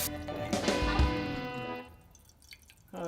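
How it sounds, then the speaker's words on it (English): Jackfruit rinsed under a running tap, close splashing and pouring water that fades into quiet near the end, followed by a short burst of sound. "And now I'm going to rinse it."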